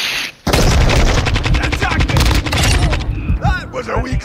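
Rapid bursts of gunfire from the video game Call of Duty: Modern Warfare 2, loud and dense with overlapping shots and a few whooshing effects near the end.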